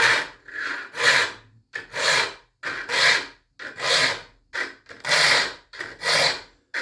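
A hand file rasping across the teeth of a sawmill bandsaw blade in about ten steady strokes, each a gritty scrape of roughly half a second, close and crisp with short gaps between strokes, no talking.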